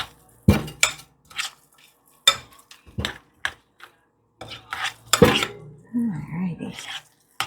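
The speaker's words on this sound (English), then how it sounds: "Now we're going to just stir that up in there." A spoon stirs creamy twice-baked potato filling in a bowl, giving a series of close, sharp clinks and scrapes in irregular bursts with quiet gaps between them.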